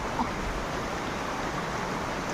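Rain-swollen stream water rushing steadily near a tribal village, a dense continuous wash of flowing water, close and even throughout with no talk.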